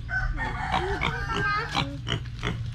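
A pig in a Philippine village grunts and squeals in quick, repeated bursts, close and fairly loud, with low background noise underneath.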